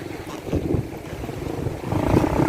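Large sea waves at a beach in Infanta, Quezon, a rough rushing surge of surf mixed with wind buffeting the microphone, building louder toward the end.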